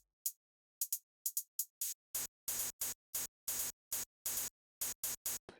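Hard-distorted hi-hats run through a maxed-out Reaper distortion plugin: harsh, crackly noisy hits, sparse at first and then in a steady driving pattern of bright fizzy bursts, played alone.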